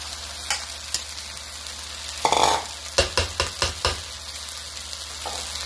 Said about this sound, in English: Now you want to take those vegetables and add those back in. The vegetables and your egg.